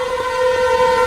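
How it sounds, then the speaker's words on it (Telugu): A cartoon train on a railway track sounds a loud, steady horn blast as it approaches, with a faint rumble beneath and no voices. "రోబోట్ చెయ్యి, వెంటనే ఆ ట్రైన్ ఆపేయి."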